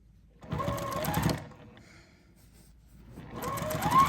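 A sewing machine stitches quilt binding along a quarter-inch seam in two short, even bursts of rapid needle chatter, separated by a quiet pause.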